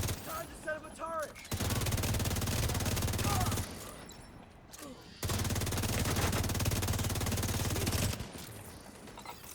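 Sustained bursts of rapid turret gunfire in a video game, two long dense volleys separated by a short pause, loud and continuous with brief quieter gaps.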